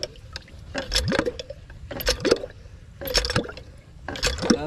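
Water gushes from a hand pump in repeated surges, four rhythmic strokes each bringing a splashing pour with squeaky pump creaks, close and fairly loud.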